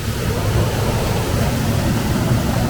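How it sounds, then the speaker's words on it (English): Water rushes at an old mill with its machinery still in place, a loud, constant roar of flowing water with no breaks. "I love the sound of that water as well"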